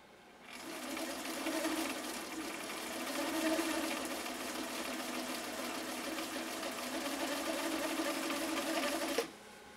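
A Viking 6370 sewing machine runs a blind hem stitch with a steady, fast mechanical whir and needle clatter for about nine seconds, close and with no speech, then it stops abruptly.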